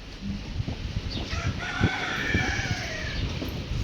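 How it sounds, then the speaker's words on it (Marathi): A rooster crows close by, with chickens clucking around it in a village, and no voices. "ह्या ज्या आहेत ना ह्या कोंबड्या आहेत"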